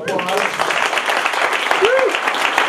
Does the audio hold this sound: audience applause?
yes